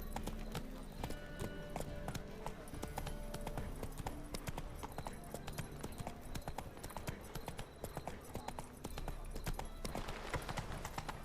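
Hooves clip-clop in a quick, steady gallop as a horse runs across the ground in The Witcher 3: Wild Hunt, close and continuous throughout, with faint background ambience.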